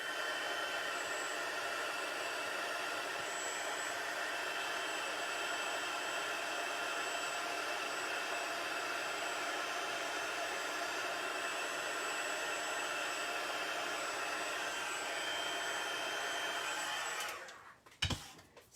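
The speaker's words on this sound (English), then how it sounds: "And now I'm going to just heat my embossing powder." A handheld heat tool melts embossing powder on a craft card, producing a continuous close whirring blow that holds steady for a long stretch before cutting off with a couple of clicks and knocks.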